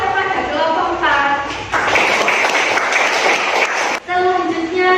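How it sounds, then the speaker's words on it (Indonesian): A classroom of children bursts into a short, dense round of clapping for group 4, lasting a couple of seconds, with a teacher talking just before and after. "beri tepuk tangan yang meriah kepada kelompok 4"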